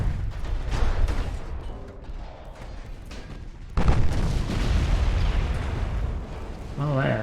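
Warships exchange gunfire in Ultimate Admiral: Dreadnoughts, with repeated booming artillery blasts and a sharp heavy report midway, all under excited talk.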